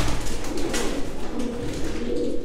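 Mardin tumbler pigeons in a loft give low, continuous cooing close by, with a muffled rumbling background and no speech.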